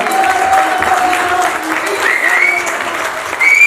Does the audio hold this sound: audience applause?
yes